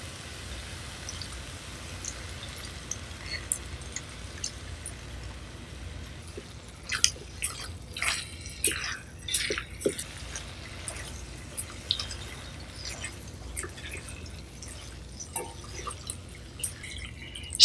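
Half a lemon's juice dripping and trickling into shrimp pulao masala in a pan, with a cluster of small wet drips and squishy splashes in the middle, quiet and close.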